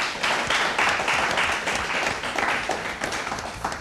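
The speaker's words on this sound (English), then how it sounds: "Let's have a big round of applause for them." An audience claps and applauds steadily for a team of schoolgirls on a televised science quiz show, a dense, sustained wash of hand claps throughout.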